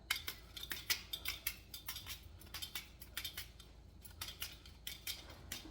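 Knife chopping an onion on a board, with quick irregular bursts of sharp cutting taps and clicks repeating throughout, close and quiet, with no talking.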